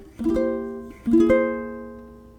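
Two short plucked phrases on a ukulele from a song from Disney's Cinderella, each a quick cluster of notes that rings out and fades; quiet and alone.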